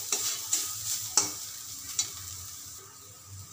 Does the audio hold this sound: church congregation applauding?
no